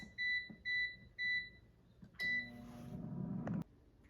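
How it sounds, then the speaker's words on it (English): An air fryer signals the end of cooking a pork belly with four evenly spaced electronic beeps, loud and close, followed by a rattling clunk as the appliance is opened. "Now the air fryer is done cooking, so let's take a look."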